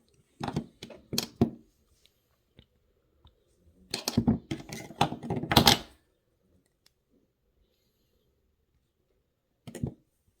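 Jewelry wire tail being snipped off with cutters during wire-wrapped earring work, heard as a few small, sharp clicks in short clusters with quiet gaps between them, close and faint.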